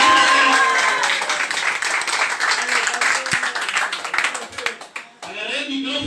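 Applause from a crowd at a live comedy or singing performance in Cancún: dense clapping under loud, near voices shouting and talking, fading toward the end before the noise rises again.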